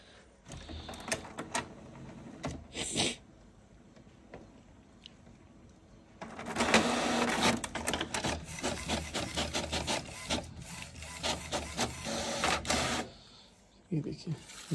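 An HP Smart Tank 500 inkjet printer runs a test page, with scraping, rubbing mechanical feed noises and clicks, quiet at first and then a busier stretch of rapid rasping passes before stopping; a voice speaks over parts of it.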